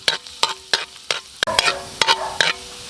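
Garlic frying in oil for beef pastil, with a soft sizzle under a series of sharp, regular clinks and scrapes of a utensil against the pan, about eight strokes in quick succession.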